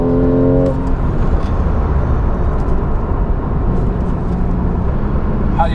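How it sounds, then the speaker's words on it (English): Manual Porsche 911 GTS driven from inside the cabin, a loud steady engine drone and road roar lasting throughout, with a brief higher engine tone at the start. "here I am driving Milton's manual GTS"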